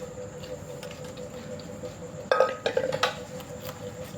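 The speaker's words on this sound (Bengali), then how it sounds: "এখন আমি এটাকে একটা বড় বলে ঠান্ডা করার জন্য ঢেলে নিই।" Boiled mango being poured into a large bowl for mango panna, a quiet hum followed by a sudden clatter and a cluster of soft pattering, clinking splashes near the bowl.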